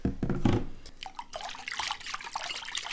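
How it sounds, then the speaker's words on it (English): Bread dough liquid mixture with olive oil being stirred in a bowl while making challah, giving a wet sloshing, trickling sound that runs steadily throughout, fairly close and moderately loud. "So I'll give that a little stir."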